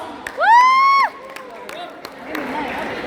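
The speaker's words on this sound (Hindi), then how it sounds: "please huge round of applause" A stand-up comedy audience greets a comedian with a long rising whoop, then a soft wash of clapping and crowd noise swells in the background.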